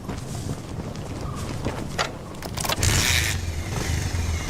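A motorcycle fires up and pulls away, its engine climbing into a steady rev that swells in the last second and a half.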